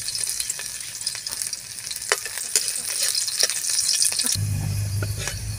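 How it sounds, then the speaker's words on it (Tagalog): Garlic sautéing in a hot pan with chicharon nearby, a steady close sizzle with scattered pops and stirring scrapes, swelling into louder, denser frying near the end. "Magigisa na po tayo ng bawang."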